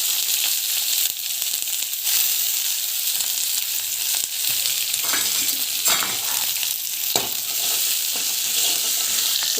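Onion, mustard seeds and cumin fry in oil with asafoetida, a loud, dense, continuous sizzle with intermittent stirring scrapes throughout.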